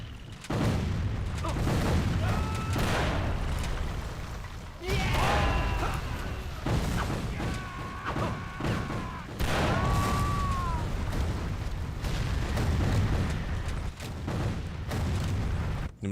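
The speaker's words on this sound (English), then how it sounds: "Grenades." Grenade blasts and bursts of gunfire from an Xbox 360 Civil War video game erupt in loud, repeated booms and rattling volleys, with sharp whistling tones between explosions across the whole stretch.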